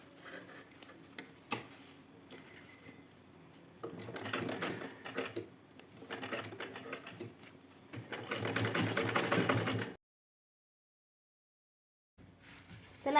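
A sewing machine stitches a fabric strip made from an old sari and sacking around the rim of a round lid cover, running in bursts of rapid ticking stitches with short pauses, then stopping briefly before starting again.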